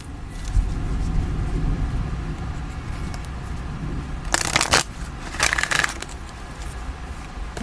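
Oracle cards being shuffled and drawn: a soft, continuous papery rustle, broken by two short, bright bursts of riffling cards, close and fairly quiet, with no one talking.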